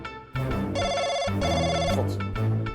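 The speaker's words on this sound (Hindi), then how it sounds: "फोन आ रहा है।" Telephone ringtone playing a bright melodic electronic tune, loud and close, continuous through the clip.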